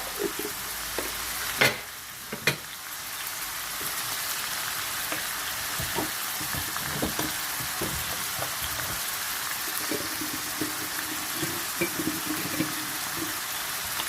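Qeema frying with red chilli powder in a pan, a steady loud sizzle throughout with a few sharp clanks and scrapes of a spoon stirring the mince.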